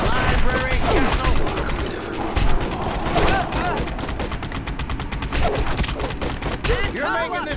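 Rapid gunfire bursts from The Punisher video game crackle loudly and almost without pause, mixed with dense thumps and action noise while a voice speaks over the shooting.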